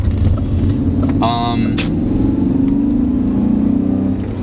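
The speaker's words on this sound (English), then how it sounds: "the engine just has such a nice note. You know, 4-liter V8 or 5-liter V8" BMW E39 M5 V8 engine running steadily with a deep, continuous rumble outdoors, loud and close throughout, with a brief higher whine partway through.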